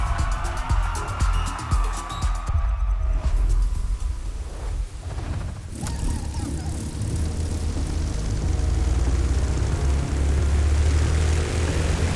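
A propeller airplane engine in The Crew Motorfest racing game drones steadily and loud for the whole stretch, a broad rumbling roar with a brief rising shift partway through and no voices.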